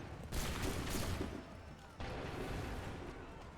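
Musket volley gunfire in the Assassin's Creed III video game: a dense crackling fusillade of many shots at once, then a second volley about two seconds later, fairly loud with no talk.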